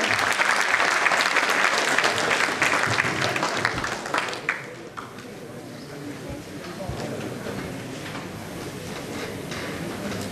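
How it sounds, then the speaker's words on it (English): Dense round of applause from an audience at a technology conference gathering in Lucknow, loud and sustained for several seconds before thinning into scattered claps and crowd murmur. "Let me have a huge round of applause for him."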